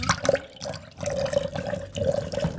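Peach nectar poured from a container into cocktail glasses, a steady liquid trickle with gurgling bursts that come in three separate pours.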